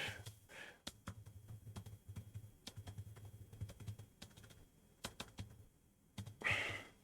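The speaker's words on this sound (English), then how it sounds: "So I'm typing." Someone types on a computer keyboard in quick, uneven bursts of clicking keystrokes, with a few sharper key taps and short pauses, close but fairly quiet.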